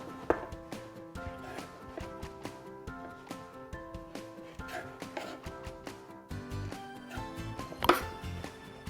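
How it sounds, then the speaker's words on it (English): A paring knife repeatedly chops pears into bite-sized pieces on a cutting board, a quick series of crisp close knocks in steady rhythm over background music. "And then we'll just cut the pears into bite-sized pieces."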